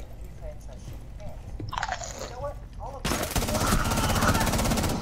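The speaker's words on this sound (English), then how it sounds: "I shot you to death." Video game gunfire erupts in a dense, continuous burst of rapid shots that swells louder toward the end, with a player's voice shouting over the earlier part.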